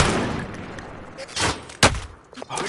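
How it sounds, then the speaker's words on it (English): Gunfire in a multiplayer shooter, Warzone Rebirth Resurgence, heard through a wall: a dull burst of shots, then a sharper single crack and a few softer thuds, moderately loud against ambient game noise. "Did that guy shoot through the wall?"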